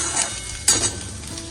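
Bottle gourd peel fries in a pan with a soft, steady sizzle, punctuated by a couple of sharper stirring scrapes partway through, close by and with no speech.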